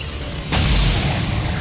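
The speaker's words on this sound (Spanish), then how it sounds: "Disparo con pistola" Pistol fired at a robot in XCOM 2: one sudden, loud shot bursts out after a brief quiet lead-in, then a dense, booming rumble lingers to the end.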